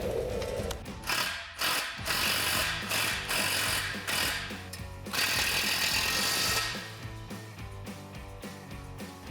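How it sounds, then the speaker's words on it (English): A ratchet with a 15mm socket tightens rack bolts on a Jeep Gladiator's XRS Overland Xtreme rack, with rapid clicking bursts that pause and restart, loud and close. "we can go ahead and tighten all of them down with a 15mm socket"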